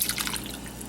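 Miso mixture poured into a soup pot gives a short, wet splash and trickle, close and moderately loud, with no talking.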